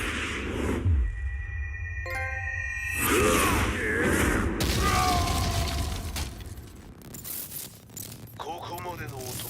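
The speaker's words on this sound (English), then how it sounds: "Explosion confirmed at the Mishima dojo." An explosion at the Mishima dojo in a Tekken 7 cutscene: a loud, broadband blast within a dense, busy mix of whooshes, metallic chimes, debris and music-like tones, with some voice-like sound among the effects.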